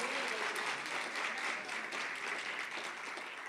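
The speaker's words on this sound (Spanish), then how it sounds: "Yo creo que se merecen otro aplauso." Sustained audience applause at a dance event fills the space, a thick, continuous patter of many hands at moderate volume that eases slightly toward the end, with no talk on top.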